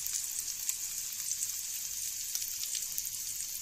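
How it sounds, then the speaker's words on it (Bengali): Green chillies fry in hot oil with a steady, close crackling sizzle, dense and even throughout with small pops, no voices. "কাঁচা লঙ্কাটা ভাজা ভাজা হয়ে গেছে"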